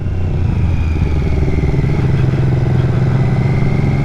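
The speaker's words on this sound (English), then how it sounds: "Rev your bike up." A motorcycle engine on a touring ride through Elan Valley, revving loudly and close with a deep throbbing rumble that rises slightly in pitch, with no talk over it.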